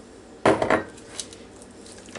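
A spoon scrapes and knocks against a bowl while stirring a stiff sweet potato pie filling, a short cluster of clattering strokes followed by quieter faint scraping, with no voices.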